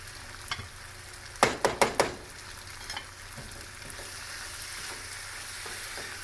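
Zucchini pasta ingredients with sharp provolone are stirred in a pan over a low flame: a quick run of four sharp clanks of utensil against pan, then a soft, steady sizzle with occasional light taps.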